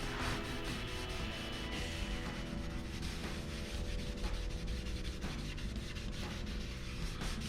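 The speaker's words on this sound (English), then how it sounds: "stop and wipe down the body, or wipe down the whole thing with some naphtha" A cloth soaked in naphtha is rubbed over a carved zebrawood electric guitar body, making a continuous close, soft scrubbing and rubbing that is steady throughout, with no speech.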